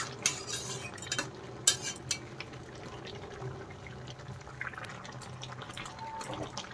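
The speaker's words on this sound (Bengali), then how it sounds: "গরম মশলা গুঁড়ো দেওয়ার পরে আরেকটু নেড়ে চেড়ে ভালোভাবে মশলা মিশিয়ে দিচ্ছি" A spoon stirs egg curry with garam masala and ridge gourd in a pan, giving soft scraping and scattered metallic clinks over a steady background hiss, with no talking.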